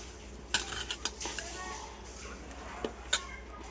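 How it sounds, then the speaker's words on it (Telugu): Fish pieces are mixed with salt and chili in a metal dish, producing sharp clinks and scrapes of utensil on metal at irregular moments over a soft, continuous background, close by. "ఇప్పుడు బాగా కలుపుకోవాలి."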